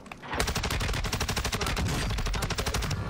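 Rapid bursts of video game gunfire, automatic weapon shots in a dense rattling volley that starts abruptly after a brief quiet moment and continues loud and close throughout.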